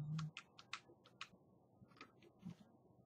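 Keys on a computer keyboard are pressed in a quiet room, a handful of soft, close clicks in short irregular bursts with pauses between them.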